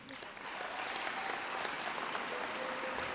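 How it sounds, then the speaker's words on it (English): An audience at a school district recognition night for science winners claps in sustained, dense applause that swells quickly and holds steady, with faint voices underneath. "Would you join me in one big round of applause for all the science winners this year?"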